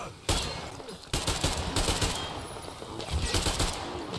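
Rapid bursts of automatic gunfire from a weapon in Metro Exodus, loud and close, firing in several sustained volleys with short breaks between them.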